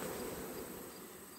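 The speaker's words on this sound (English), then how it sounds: "The bees seem to have settled in there. It's a pretty big swarm." A large honeybee swarm settled in a cluster, giving off a steady, dense buzzing hum at low volume with no voices.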